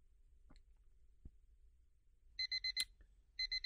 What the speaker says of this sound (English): Our alarm works.